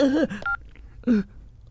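A telephone keypad gives a single short dialing tone, set among brief moaning, voice-like sounds and quiet background hum.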